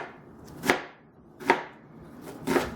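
Onions being chopped into cubes on a cutting board, three sharp knife strikes spaced nearly a second apart, close and clear with no talk.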